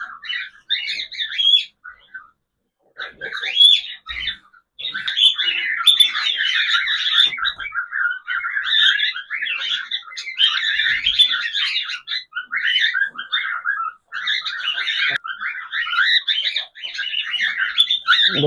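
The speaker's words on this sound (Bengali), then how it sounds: "জাবা পাখির বাচ্চা, এটা কিন্তু বাচ্চা" Java sparrow chicks chirping in a cage, busy overlapping high squeaky calls close by, continuous with only brief pauses.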